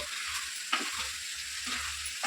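A fish, mango and brinjal curry is stirred gently in a pan, soft scraping strokes repeating every half second or so over a steady close sizzle of frying.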